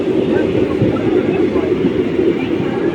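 An express train runs at speed between Tirunelveli and Kovilpatti Junction, giving a loud, steady rumble and roar with rail clatter from inside the carriage and no letup.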